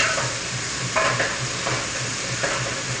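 Soup ingredients browning in a hot pan, a continuous loud sizzle with a few sharp stirring scrapes and clatters rising above it, close and without talk.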